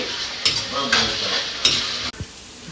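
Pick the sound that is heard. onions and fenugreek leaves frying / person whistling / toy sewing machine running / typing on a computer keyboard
onions and fenugreek leaves frying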